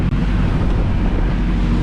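Waves striking the beam of a sailboat motor sailing across the Kattegat sea, with wind roaring over the microphone, a loud continuous rush and wash filling the whole moment.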